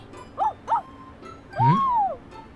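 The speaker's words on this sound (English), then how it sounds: "started barking outside the shop." A dog in a visual novel game barks with two short yips, then gives a longer, rising and falling whining bark, all close and fairly loud over a quiet background.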